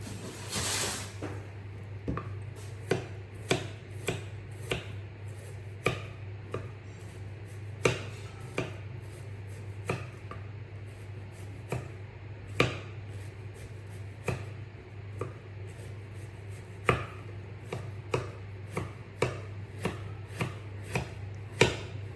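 Knife chopping food on a cutting board while preparing a Cambodian beef dish, irregular sharp close taps spread across a quiet background.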